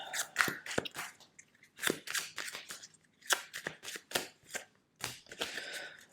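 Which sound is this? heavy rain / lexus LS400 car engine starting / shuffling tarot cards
shuffling tarot cards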